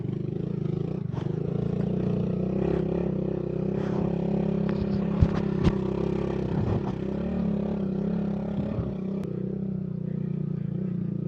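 A motorcycle working along a rough hard trail near Panpanan, San Remigio, Antique, its engine droning steadily up close with rattles, knocks and scraping over the uneven ground.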